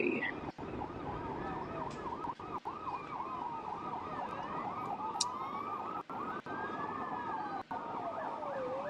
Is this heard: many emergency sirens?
yes